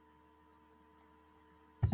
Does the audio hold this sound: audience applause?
no